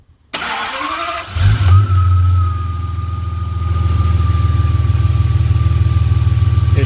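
Jaguar V12 with high-energy cylinder heads, solid tappets and K&N air filters, on its first outing in 18 years, fires up after brief cranking and settles into a steady, close idle with no voices.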